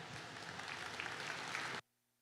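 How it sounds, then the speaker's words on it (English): A crowd in a livestock show arena at the Ohio State Fair market beef show gives steady, even applause that holds for nearly two seconds, then cuts off abruptly into near silence. "You give them a round of applause."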